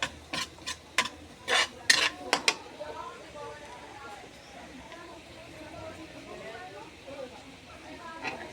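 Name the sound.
garlic being sautéed in a pan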